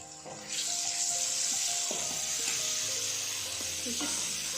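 Tomatoes drop into an egg and peas curry frying in a pan, bringing a steady, fairly quiet sizzle with some stirring and light clatter.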